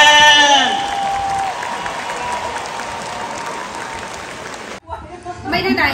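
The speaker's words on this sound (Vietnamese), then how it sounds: "tràng pháo tay thật dài thật giòn cho đệ nhất ban nhạc" A long round of audience applause for a band at a Vietnamese concert, loud at first with a sung note ringing over it, then steady clapping that cuts off near the end as voices take over.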